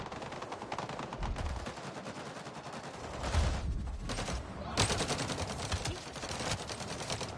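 Bursts of gunfire from the video game Avatar: Frontiers of Pandora, rapid automatic volleys with a heavier blast partway through and renewed rattling fire, dense and continuous.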